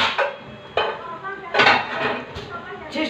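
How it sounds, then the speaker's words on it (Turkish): Metal pans clank and clatter as they are picked up and set down on a new stovetop in a home kitchen, several distinct knocks and rattles spaced irregularly, close and fairly loud with no talking. "Çeşit çeşit tavalarımız böyle var."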